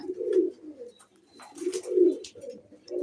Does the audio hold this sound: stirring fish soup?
no